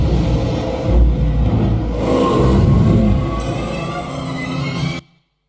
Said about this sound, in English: So this is something called an autonomous car.